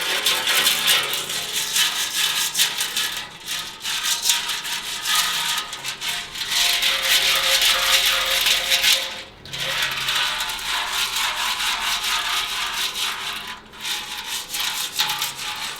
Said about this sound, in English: a handful of drywall screws, bung them in the hole, and give it a shake